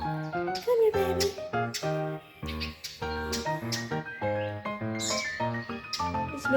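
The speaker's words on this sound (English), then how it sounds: "I want to turn off the bird sounds, okay?" Recorded bird calls play for a rescued baby bird, a series of tonal chirps and whistled phrases repeating in a steady pattern, fairly close and clear, with no talking.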